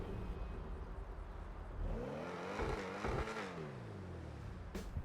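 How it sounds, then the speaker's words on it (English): Ocelot XA-21 supercar exhaust in GTA 5, a steady engine drone that swells into rising and falling revs midway, then settles back, loud and close with no talking. "listen to the exhaust note"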